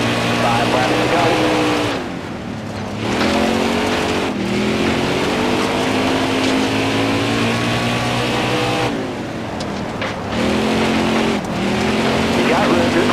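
Race car engines in the NASCAR Heat 4 video game drone steadily near and loud, pitch rising and falling with shifts, with brief dips around gear changes and a spotter's voice talking over the roar.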